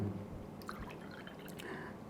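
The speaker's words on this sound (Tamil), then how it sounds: "இந்த டம்ளரில் பாருங்கள், இதில் தண்ணி இருக்குது, இந்த தண்ணீரை நான் ஊற்றுறேனே" Water trickles and drips softly as it is poured out of a tumbler, faint, close and brief, with no talking over it.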